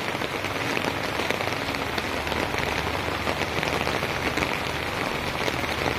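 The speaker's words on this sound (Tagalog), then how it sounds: "I love to walk in the rain" Steady rain pours outdoors on a cold afternoon in Mlang, Cotabato, a dense, unbroken hiss of drops striking surfaces all around, loud and even throughout with no talking.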